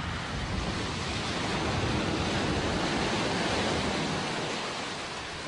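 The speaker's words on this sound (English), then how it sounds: "So this is shallow wading with a Discovery." A Land Rover Discovery wading through shallow water off-road, a steady, dense wash of splashing and rushing water that holds loud and constant throughout without a break.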